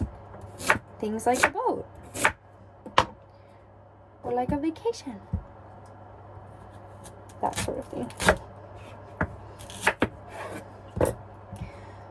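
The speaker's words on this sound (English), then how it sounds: "Hopefully you guys can hear me over the sound of chopping sweet potatoes." A knife chops sweet potatoes firmly against a cutting board in irregular bursts of sharp knocks while a person talks over it.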